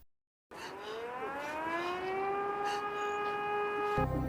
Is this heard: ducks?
no